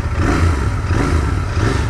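A Royal Enfield Continental GT 650 twin idles and revs with a steady low, throbbing rumble that swells slightly and holds, close and fairly loud, with no talking over it.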